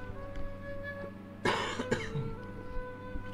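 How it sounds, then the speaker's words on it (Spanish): A person coughs twice in quick succession, sharp and close, over a faint steady background hum. "Voy a toser."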